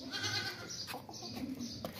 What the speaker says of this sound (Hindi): क्वालिटी वाली बकरी है माशाल्लाह।